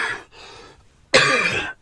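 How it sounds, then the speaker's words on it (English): A person coughs: a short cough and a softer follow-up, then after a brief pause a loud, harsh throat-clearing cough, close to the microphone. "you get to enjoy listening to me coughing"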